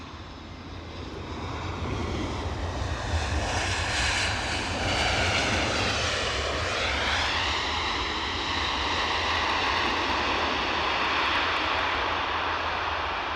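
Airliner arriving at Aberdeen from Heathrow, a loud, continuous engine roar that builds and sweeps in pitch as it passes nearby.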